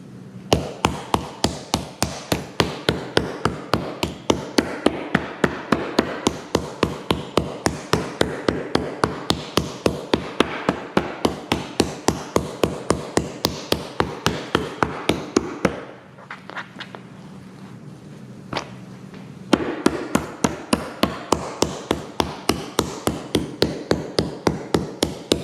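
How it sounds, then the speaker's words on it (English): A butterflied chicken breast is pounded with a meat hammer in steady, rapid thuds at about two per second. The blows stop briefly for a pause, then resume, loud and close with no talking. "Give it a quick little hammer / tenderization."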